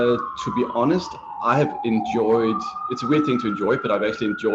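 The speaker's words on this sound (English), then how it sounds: "I don't know if you can hear the sirens in the background." Ambulance sirens wailing in the background in Manhattan near several hospitals, a steady rising and falling tone running faintly under a man's continuous close speech.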